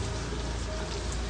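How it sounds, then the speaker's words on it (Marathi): November rain falls steadily near a temple at Theur, a constant close hiss of drops spattering on surfaces with no talking. "पाऊस आहे."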